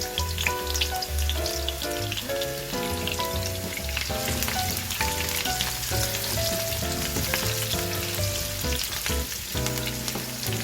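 Chopped onions fry in a little oil for pork intestine adobo, a constant bright sizzle running underneath loud music throughout.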